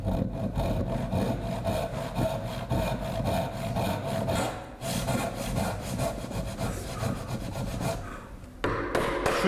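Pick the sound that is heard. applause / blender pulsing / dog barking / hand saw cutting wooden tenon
hand saw cutting wooden tenon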